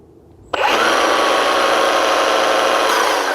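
A Milwaukee M18 Quick Lok cordless string trimmer switches on abruptly after a moment of quiet and then holds a steady, loud, high electric whine from close by, with no one speaking.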